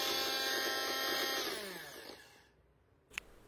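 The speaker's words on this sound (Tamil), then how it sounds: "மிக்ஸி சவுண்டு கேட்கும் போதே தெரியும் மிக்ஸி வந்து ஆனில் தான் இருக்குது." A bullet mixer jar grinding on a weak low-voltage supply gives a loud whirring motor drone that winds down and fades to near silence, then a brief click.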